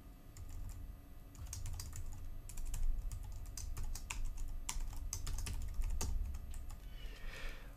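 Quiet, steady typing on a computer keyboard, irregular clusters of key clicks over a low background hum, no voices.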